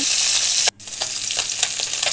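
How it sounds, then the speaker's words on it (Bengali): Pieces of meni fish fry lightly in hot oil in a pan, a loud, steady close-up sizzle broken briefly by a sharp dip as they are stirred or turned. "তো সবই হালকা হালকা করে ভেজে নিচ্ছি"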